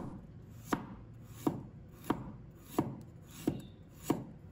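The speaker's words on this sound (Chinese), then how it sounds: "再准备1块生姜，把它切成片" A knife slicing a piece of fresh ginger on a chopping board, six crisp, evenly spaced chops about two-thirds of a second apart, close and clear with no talking.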